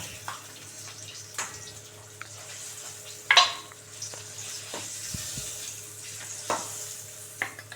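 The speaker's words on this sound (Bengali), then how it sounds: "ডিমগুলো ভাজা হয়ে গেছে এবার একটা একটা করে তুলে নেবো" Eggs fry in oil in a wok for a dhaba-style egg curry: a soft, continuous sizzle broken by sharp scraping and clinking as the pan is stirred.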